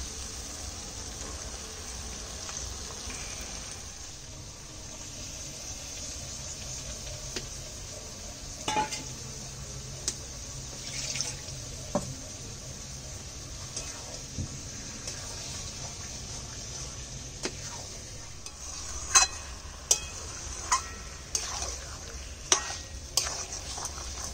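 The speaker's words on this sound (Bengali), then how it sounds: "মশলাটা কষানো হয়ে গেছে, এবার আমি স্টোমাক মেটেগুলো দিয়ে দিচ্ছি।" Chicken stomach and liver cook in a fried spice paste, giving a soft low sizzle with sporadic metallic clinks and scrapes of a spoon against the pot, quiet and close.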